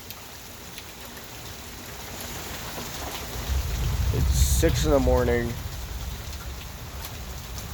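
Heavy rain from Tropical Storm Imelda pours steadily at six in the morning in a swampy outdoor spot, with a low thunder rumble swelling in the middle; someone speaks briefly over the downpour.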